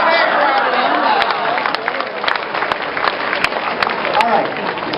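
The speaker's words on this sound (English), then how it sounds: "Give them a big round of applause." A crowd at a bird show claps and cheers loudly, mixed with chatter and voices over the applause, with a few sharp clicks standing out.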